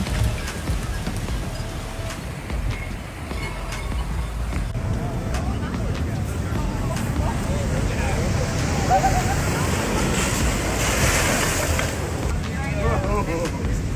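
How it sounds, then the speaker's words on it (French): Large waves pound against the quay of Santa Cruz harbour in a storm, a continuous broad roar of surging water with heavy low rumble and wind noise throughout. "De nombreuses grosses vagues chatouillaient le ventre du quai."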